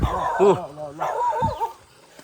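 A black dog barks and yips outdoors near a house, a few short close barks and whimpering yelps alongside a voice.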